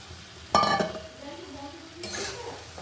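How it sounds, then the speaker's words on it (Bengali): Vegetables stirred into cooked masala in a pan, with a loud scraping clatter near the start and a second burst of stirring later over a low steady sizzle. "সবজিটাকে মশলার সাথে বেশ ভালো করে নাড়াচাড়া করে আবার জল দিয়ে দেব"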